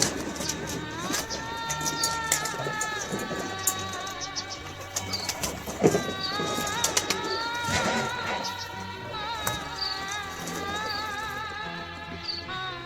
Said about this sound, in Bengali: দেখেন আমার কবুতরের ভিডিও, আটা দিতেছি কবুতরকে।